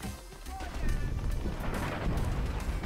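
Airstrike explosions in the shooter game Dirty Bomb, a rumbling series of blasts and crashes that swells after a quieter start, with game sounds layered over it.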